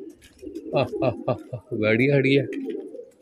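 Pigeons coo in short rolling bursts, close and fairly loud, mixed with a voice speaking over them.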